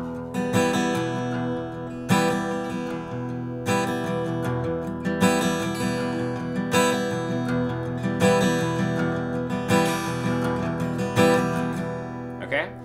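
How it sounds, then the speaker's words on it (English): Rhythm guitar is strummed steadily in an even down-up pattern, with a louder accented strum at the start of each bar repeating about every second and a half. Clear and close, with no talking. "So now what I'm doing is I'm keeping a very steady strumming hand."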